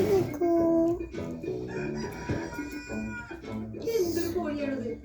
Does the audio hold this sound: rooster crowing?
yes